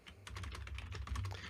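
Fingers type on a computer keyboard in a quick, steady patter of close keystrokes, faint and without any voice over them.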